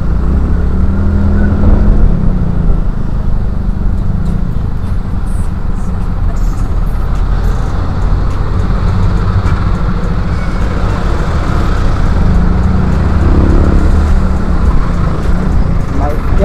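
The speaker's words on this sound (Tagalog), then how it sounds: "Sobrang traffic." Heavy road traffic of motorcycles and cars surrounds the listener in a continuous loud roar of engines and wind, with a person speaking over the noise.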